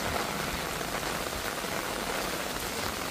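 Steady heavy rain pours down on the road as a dense, unbroken hiss of drops hitting surfaces, loud and even throughout with no voices.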